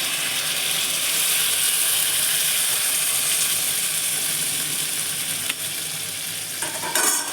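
Ground spice paste of ginger, cumin, coriander and dried red chilli sizzles steadily in a hot pan while cooking matar paneer, a loud continuous frying hiss with a brief stirring scrape near the end.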